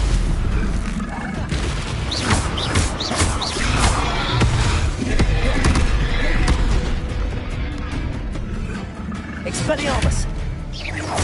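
A Confringo explosive spell cast in Hogwarts Legacy, with dense booming blasts and crackling bursts that run steadily through the whole stretch, loud and close, under game music and effects, while a voice talks over it.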